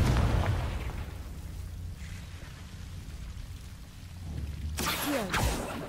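Confringo spell blast in the Hogwarts Legacy video game: a loud burst with a rushing tail near the end, following a low rumbling bed of game ambience.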